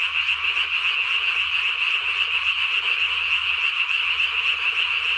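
Dense chorus of tree frogs calling at night, a loud continuous high trill with steady pulsing croaks layered over a faint low hum, no voices.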